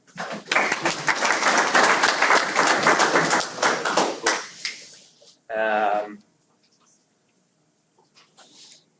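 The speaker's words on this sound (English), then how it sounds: "we clap for them because they made it" A group claps briskly for several seconds, the sound tapering off, followed by a brief voice and then quiet.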